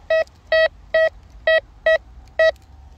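A metal detector beeping on a buried target while digging, six short, evenly spaced electronic tones, loud and close, with quiet gaps between them.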